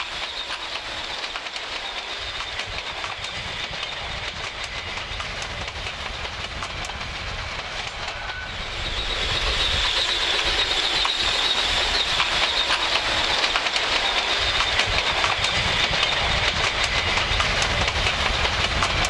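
A Mallet steam locomotive hauls a train along the narrow-gauge Selketalbahn toward Hasselfelde, with continuous rumbling wheels and rhythmic rail clatter that grows louder midway through.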